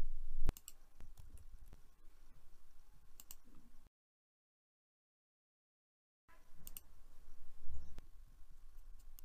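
Sharp mouse clicks, a few loud and some faint scattered taps, sound close by during online form filling, with a silent gap midway and no speech.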